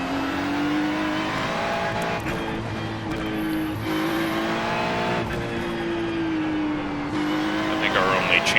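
Ferrari GT3 race cars in iRacing at the Charlotte Roval, a steady loud engine drone that rises and falls as cars shift and jostle nearby, with someone speaking over the racing.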